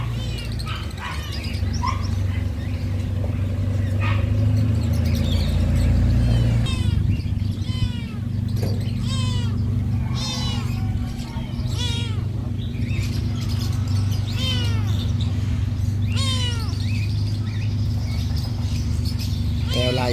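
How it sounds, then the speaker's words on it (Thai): Repeated thin kitten meows rise and fall at a busy pet market behind Talad Thai, mixed with yips and whimpers from dogs and a constant low rumble of surrounding activity. "อันนี้เป็นลูกแมว"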